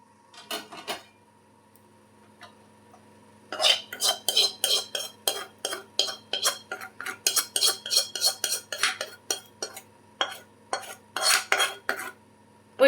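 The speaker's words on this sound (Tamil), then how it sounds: "சேர்த்துட்டு மறுபடியும் லைட்டாக ஒரு தடவை கலந்து விட்டுக்கோங்க" A spoon scrapes and clinks steadily against a pan as masala is stirred into a snack mixture, the rhythmic metal strikes loud and close with brief pauses and no talking.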